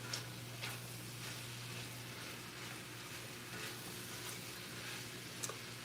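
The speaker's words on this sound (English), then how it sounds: "this is just gonna saute for like 5 minutes" Green bean casserole ingredients, mushrooms among them, sauté in a pan with a quiet, even sizzle and a few faint stirring taps, steady and low in level.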